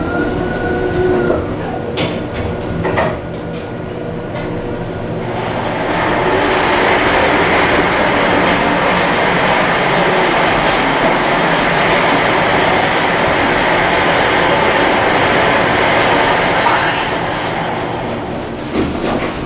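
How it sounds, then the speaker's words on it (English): A Schindler 5500 traction elevator descends at the Moxy Hotel in Portland, Oregon, with a loud, steady rumbling hum that swells and holds through the ride, a few clicks at the start. "Elevator is going down."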